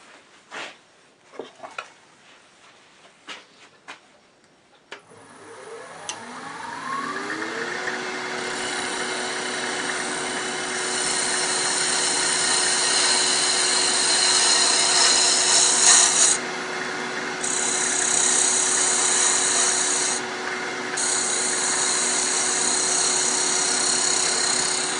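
A few sharp wooden taps, then a wood lathe spins up on a mushroom box for final shaping: a steady whirring hum with a rising tone, overlaid by constant rasping tool-on-wood contact that stays loud to the end.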